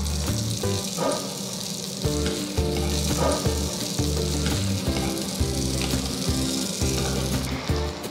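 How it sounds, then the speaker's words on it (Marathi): Ragda patties shallow frying in oil in a pan, making a loud, continuous sizzle close up, with an occasional stir or scrape. "उलटवून दुसऱ्या बाजूने पण छान भाजून घ्या"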